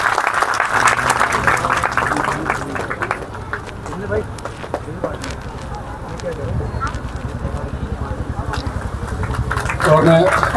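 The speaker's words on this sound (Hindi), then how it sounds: "तालियों स्वागत करिए महाराज जी का" An audience at a Shrimad Bhagwat gathering claps to welcome Maharaj ji, a loud burst at the start that thins to scattered claps, then swells again near the end.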